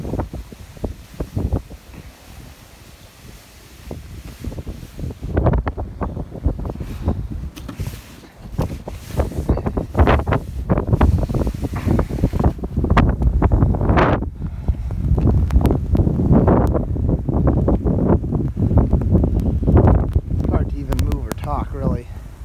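Strong gusty wind in a snowstorm with drifting snow, about 20 mph gusts, roaring and buffeting the microphone in loud surges throughout, with someone talking over parts of it.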